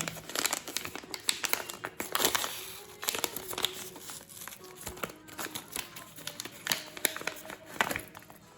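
Plastic packaging of a Hirono V.5 Reshape blind box torn and crinkled open by hand, a close, steady run of crackling rustles and sharp rips with no talk over it.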